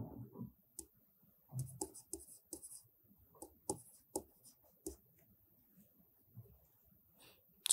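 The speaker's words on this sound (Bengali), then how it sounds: "অতএব আমি এখানে লিখব" Marker or chalk writing on a board during a mathematics lecture on permutations, heard as scattered short scratches and taps, close and fairly quiet, with no talk.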